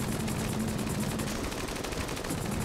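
Mac 10 submachine gun fire in Enter the Gungeon comes as rapid, dense tapped bursts, a steady harsh crackle of quick shots throughout.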